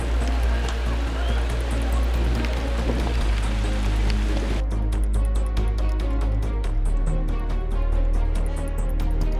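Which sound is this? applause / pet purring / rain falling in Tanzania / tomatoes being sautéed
rain falling in Tanzania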